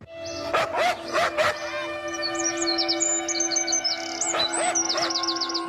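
A woman raised among dogs imitates a dog's barking with her voice: three quick, loud barks close together, then a single bark a few seconds later, with birds chirping and tweeting throughout.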